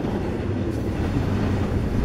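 CSX freight train approaching at a road crossing, a steady low rumble of rail traffic heard alone at moderate distance, without voices.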